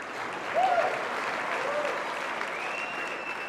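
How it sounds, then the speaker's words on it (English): An audience claps steadily for a few seconds at a Republican Jewish Coalition meeting, a dense wash of applause filling the room at moderate volume. "You can clap."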